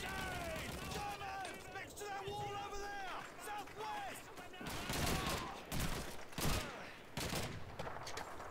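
Bursts of gunfire crackle in the World War II shooter Call of Duty 2, with distant volleys and sharp shots scattered among shouting soldiers, faint overall and mixed under game chatter and a player talking.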